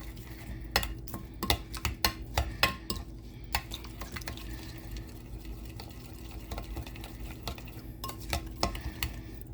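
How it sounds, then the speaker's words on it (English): Seasoning with bay leaves being stirred for a prime rib roast, a near, irregular run of utensil scrapes and clinks against a bowl, with no talking. "I'm going to give this a mix."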